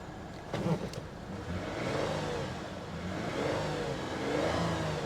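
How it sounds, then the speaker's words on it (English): A 2012 Porsche Cayman engine idles and then revs in a couple of smooth, moderate swells, heard from a distance inside a vehicle auction lot with no talk over it. "Engine sounds healthy,"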